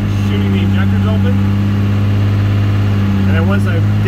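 A Cummins 188/220 diesel engine runs loudly and steadily during a flat tappet cam break-in, held at a constant high-idle drone with a strong low hum, while someone talks over it.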